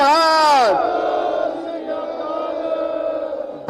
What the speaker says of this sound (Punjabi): ਮੈਂ ਇੱਕ ਵਾਰੀ ਫੇਰ ਜਕਾਰਾ ਛੱਡਦਾ